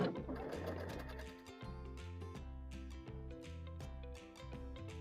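A Brother Stellaire or Baby Lock embroidery sewing machine stitches steadily and up close, its needle mechanism hammering out a fast, even rhythm with brief pauses and slight shifts in speed.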